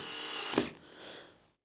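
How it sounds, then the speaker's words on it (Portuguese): A power drill drives a screw into wood while a barn-style sliding door is being installed, giving one short, close, loud whir that cuts off and fades. "Você pode ver que agora eu consigo colocar um parafuso."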